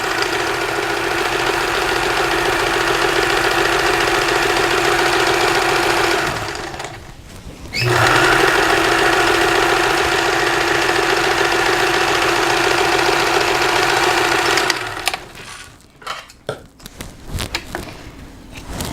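A sewing machine stitches a pillowcase, its steady motor whir running continuously for several seconds, pausing briefly, then resuming before stopping into quieter handling noises.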